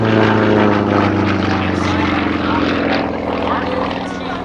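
A Sukhoi SU-31 aerobatic airplane at an air show: its propeller engine drones loudly and steadily throughout an outside tumble, with a strong low hum and no pause.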